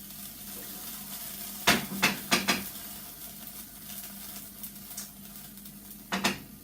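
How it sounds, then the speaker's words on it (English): Chicken curry is stirred in a pot with a utensil, giving a few distinct scraping strokes in quick succession, a pause, then another stroke over a low simmering hiss. "I'm just going to mix that up together before I actually cover it, for it to actually simmer slowly and actually cook"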